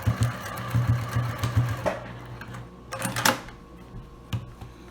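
A sewing machine back stitching the seam of a handmade ring bag, a dense run of rapid needle chatter for about two seconds, then a pause and a few shorter bursts and clicks close by.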